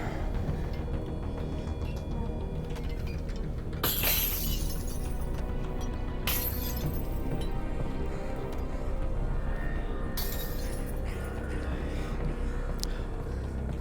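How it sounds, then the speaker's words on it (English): Glass bottles and objects smash in the virtual reality game Half-Life: Alyx, three sharp shattering crashes spread over several seconds, with a quiet ambient hum and faint rattles between the breaks. "Third time through, smashing stuff never gets old."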